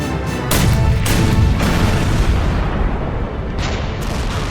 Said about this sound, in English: Hood and Prince of Wales opened fire at 24 kilometres.